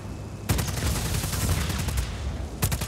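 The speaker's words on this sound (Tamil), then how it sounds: "47 புல்லட்டை வச்சுட்டு வெடிச்சுட்டு இருக்கோம்" Dense, sustained automatic gunfire from the Just Cause 4 video game erupts loudly after a short quiet lead-in, rattling continuously before a fresh burst starts near the end.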